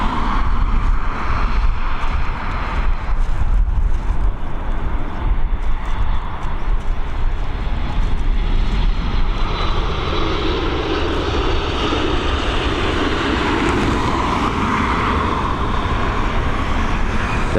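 A Ryanair Boeing 737 MAX lands at Dublin Airport, its loud, steady jet engine roar filling the whole stretch with a sustained broadband rush that shifts in tone as the aircraft passes, with faint road traffic beneath.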